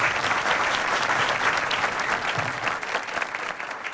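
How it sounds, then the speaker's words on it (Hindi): An audience at an open seminar applauds to welcome a guest, giving sustained, even clapping from a packed room that holds steady and then thins slightly toward the end. "सर का मैं स्वागत करता हूं तालियों के साथ।"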